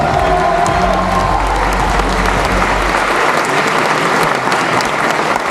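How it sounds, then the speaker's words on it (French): Loud, dense audience applause fills a hall at a theme park fans event, steady clapping from a large crowd with a few faint cheers. "Applaudissements s'il vous plaît."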